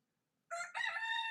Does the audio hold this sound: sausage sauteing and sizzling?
no